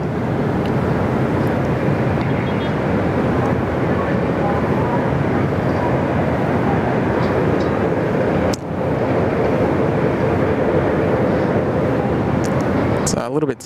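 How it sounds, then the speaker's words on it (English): A Qantas airliner arriving from Hong Kong comes down onto runway 34 left at Sydney Airport, its steady broadband jet roar loud and continuous throughout, with a brief dip partway before it resumes. "Qantas 128 from Hong Kong about to drop in here on runway 34 left."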